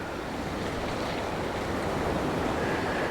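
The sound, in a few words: waves breaking onto a black sand beach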